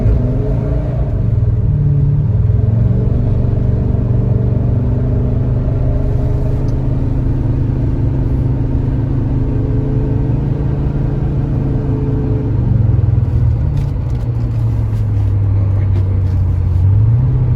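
A 1982 Porsche 928 V8 pulls hard in first gear toward 3,000 RPM, a loud, steady low engine roar and rumble running throughout with slight pitch changes as it revs, close to the car.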